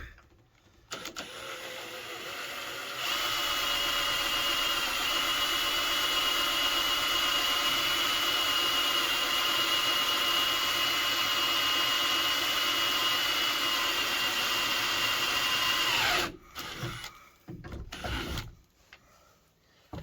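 A power drill drilling rivet holes whirs steadily at high speed for several seconds, then winds down and stops with a few brief bursts after.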